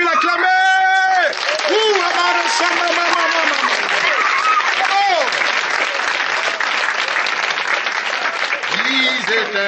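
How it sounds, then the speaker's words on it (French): A church congregation applauding and cheering at a prophet Joel Krasso service, loud dense clapping with shouts and whoops, over a sung voice and music at the start. "est-ce qu'on peut l'acclamer?"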